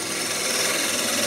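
A wood-turning tool cuts material from the stem of a spinning top on a lathe, giving a close, steady rasping scrape without a break or talk.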